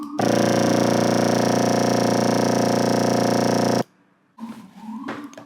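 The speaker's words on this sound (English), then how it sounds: "Woodwinds ensemble legato, that sounds like this." Sustained, dense layered wind instruments hold a smooth legato chord for several seconds, then stop abruptly, followed by quieter brief rustling and faint sounds.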